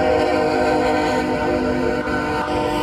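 A train rolls through the small-town downtown of Nettleton, Mississippi, its loud, sustained horn blaring with rich layered tones over the rumble of the cars for about three seconds, close and steady.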